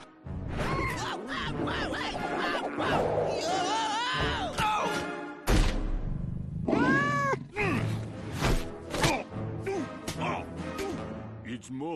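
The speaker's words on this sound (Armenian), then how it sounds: "Ոչ, պահակային կատու։" A guard cat in an animated cartoon yowls and meows in drawn-out, rising and falling cries, loud and repeated, mixed with crashes and character voices talking.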